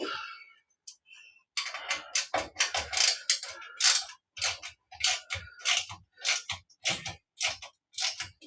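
Metal hex key clicking and ratcheting against fittings while a piece of flat-pack furniture is assembled, a steady run of close, crisp ticks in short bursts with brief pauses between turns.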